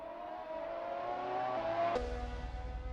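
Race car engine in a sim racing game at Spa-Francorchamps, a steady high droning rev holding for about two seconds before cutting to a lower rumble, fairly loud and alone.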